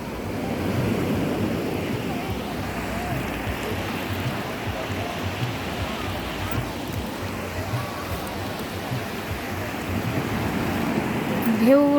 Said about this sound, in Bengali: ঢেউগুলো দেখুন বন্ধুরা, সকালের ঢেউ